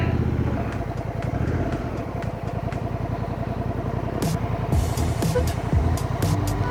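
A Honda Africa Twin motorcycle engine runs steadily close by with a rough, throbbing idle and slight revving, a continuous rumble with no talk.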